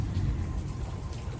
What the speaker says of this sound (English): but it rained really hard.